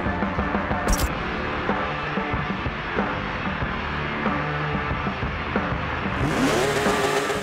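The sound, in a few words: 2012 Porsche 911 GT3 RS 4.0 engine revving in Forza Motorsport 7 video game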